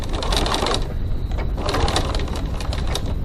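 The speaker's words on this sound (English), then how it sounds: "we're just going to top stitch 3mm 1/8 of an inch" A sewing machine top stitching a crossbody bag runs in a continuous, rapid mechanical whir and clatter, close and fairly loud, with a brief dip in the middle before it carries on.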